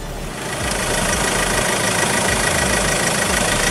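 A 2019 Ford Everest's 2.2 liter diesel idles with a steady low rumble and faint knocking tick, close and loud, holding an even rhythm throughout without speech.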